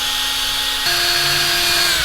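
A power drill bores holes in the soft plastic frame of an Eachine Wizard X220 drone with a dull bit. The motor whines loud and close, shifting pitch partway through as it bites into the material.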